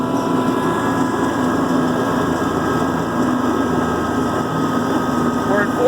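Kubota B2650 tractor with an LP FDR2572 mower deck climbing a steep slope, its engine holding a steady, loud, continuous drone with whining fan noise and no variation in pace.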